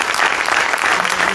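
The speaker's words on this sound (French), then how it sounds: "On peut les applaudir." Steady, dense applause from a film festival audience in Carmaux, many hands clapping continuously with no clear pauses.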